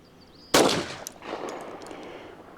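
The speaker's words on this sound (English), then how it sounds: "I could shoot faster than this, but the point of this is to see what accuracy I can derive" A Colt Gold Cup National Match .45 pistol fires one sharp, loud shot. A decaying echo tail follows, then a few faint clicks.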